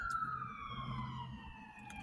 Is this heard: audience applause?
no